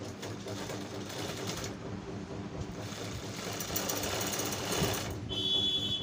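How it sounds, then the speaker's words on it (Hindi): Close sewing machine stitching a safari suit sleeve, a loud continuous rapid whirring run with a short pause partway and no talking. "आस्तीन पे सिलाई मार देते हैं।"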